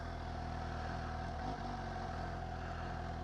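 Suzuki GSX-S750 motorcycle, 2017–2018 model, idling steadily at about 1,000 rpm as the clutch is let out in gear, with a slight dip and lift in the engine note midway through a continuous low rumble.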